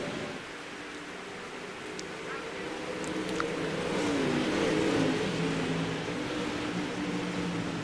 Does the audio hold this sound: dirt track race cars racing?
yes